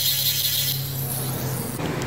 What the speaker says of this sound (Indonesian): Saya kasih amplas ujungnya ini ya.